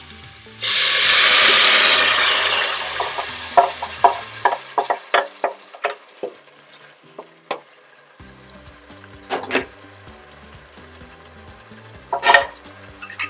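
Tomato dropped into onions frying in a pan for peanut sauce sets off a loud burst of sizzling that slowly fades, followed by a run of sharp stirring and scraping clicks and knocks.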